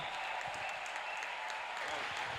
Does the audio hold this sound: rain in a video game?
no